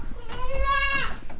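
A single goat, around seven months old, on a farm in Wonosobo, lets out one close, wavering bleat lasting under a second, with faint background noise around it.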